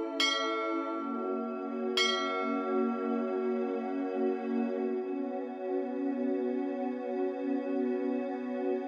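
Church bells ring on the Greek island of Lipsi, two clear strikes about two seconds apart, each followed by a long, humming resonance that fades slowly.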